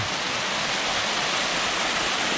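Stream water rushing steadily through a laundry spot in Chefchaouen, Morocco, a loud, continuous broadband wash of flowing water with no pauses, close by and alone.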